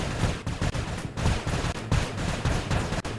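Cannons fire in the VR game Yeeps, a rapid run of booming blasts in quick succession, loud and close, with no talking over them.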